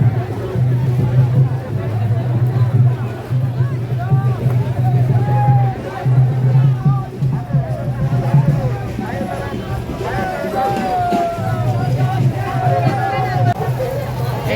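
Dense crowd at a Rath Yatra chariot festival, a steady babble of many voices with shouts and calls rising and falling around a nearby speaker, over a constant low drone.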